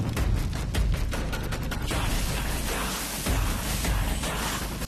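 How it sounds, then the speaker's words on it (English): Fireworks burst in a scene from the Telugu action film RRR, a dense crackling barrage of rapid pops and sputtering bangs that runs continuously and loudly, with no talk over it. "Oh, look at that, that's great with the fireworks."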